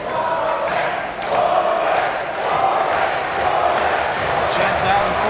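A gym crowd at a Hempfield versus Warwick league final volleyball game roars and cheers steadily and loudly, with whoops rising through the din and a commentator talking over it.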